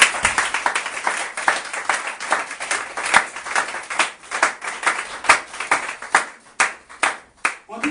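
A church congregation at a Sunday service clapping in praise, with a dense run of claps that settles into a rhythmic beat, loud and close, while voices call out over it.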